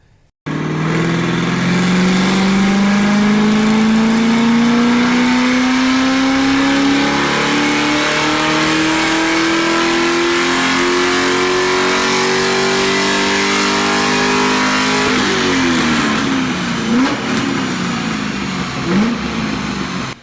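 A C5 Corvette track car with a performance cam and electronic exhaust cutouts wide open revs loud and close, its engine note climbing steadily for about fifteen seconds before several sharp blips and falls.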